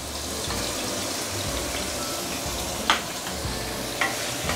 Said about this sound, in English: Let's saute this first before we continue.